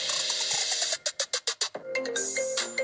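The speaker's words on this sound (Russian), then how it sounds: "Ну, короче, Хагиваги звонит" A phone rings with an incoming call, sounding as a bright electronic ringtone melody with a run of sharp, evenly pulsed beeps in the middle, loud and close, with no talking.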